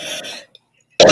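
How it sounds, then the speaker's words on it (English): A single sharp cough bursts out close and loud after a short pause that follows a brief throaty sound. "Excuse me, now I'm coughing."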